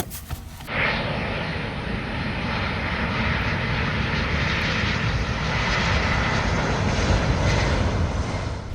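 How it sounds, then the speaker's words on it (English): A small plane's engine drones steadily in flight, a loud, continuous close roar filling the cabin from start to end with no talking. "jump in a plane, fly around for a bit"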